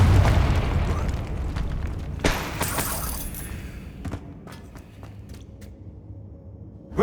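A Confringo spell blasts in Hogwarts Legacy with a heavy, booming explosion and crackling debris that rumbles and slowly dies away, followed by a few light impacts.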